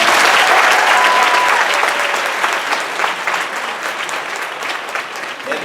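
Theater audience applause fills the room as a dense burst of clapping that starts strong and gradually thins and softens.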